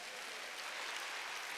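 A Korean church congregation at a Wednesday worship service gives a continuous wash of applause, soft and even, with no break and no individual claps standing out.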